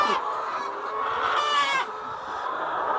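Laying hens in a coop on a village farm cluck and squawk in a dense, overlapping chorus, loud and close, with one louder drawn-out call in the middle.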